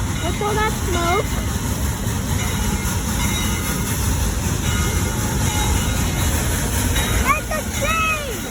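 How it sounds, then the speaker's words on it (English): A train rumbles past nearby at a station in Pleasanton with a continuous low roar and rattling, while high squealing tones and voices come through over the noise. "That's a train!"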